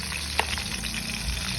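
Hungarian sausage and cheese sizzling in a frying pan, a steady close crackle with one sharp tick partway through, no voices.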